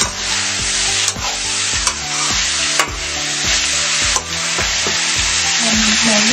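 Chopped vegetables, cut into long strips, sizzle and fry steadily in a pan for vegetable masala Maggi, loud and close, with sharp stirring scrapes at intervals over the continuous hiss and no talking.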